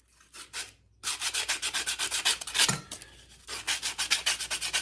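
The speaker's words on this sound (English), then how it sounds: "I'm just roughly sanding it. This is probably 40 grit." A wooden ring is rough-sanded by hand with coarse 40-grit paper: after a couple of brief strokes and a pause, rapid back-and-forth rasping strokes follow in a steady rhythm, close and loud, with no talk.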